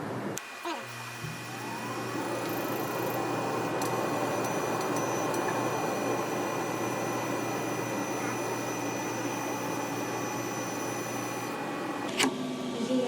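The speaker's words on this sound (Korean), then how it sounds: "지금 3D 프린터를 이용해서 조합을 출력하였습니다." A 3D printer building an object gives off a steady, mechanical whirring hum throughout, with faint tonal whines and a few sharp clicks near the start and end.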